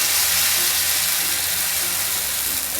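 Khaporali batter poured onto an oiled iron griddle in a Konkan kitchen gives a steady, close, broadband sizzle and hiss that runs unbroken throughout, with no talking.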